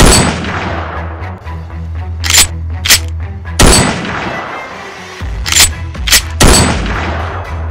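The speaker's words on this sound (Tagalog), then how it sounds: "Pero pagputok ng baril, pagkasa, tapos putok ulit ng baril." Several sharp, loud gunshot blasts ring out at irregular intervals, echoing with a low rumble in between, with a brief mechanical clack of a gun being cocked midway.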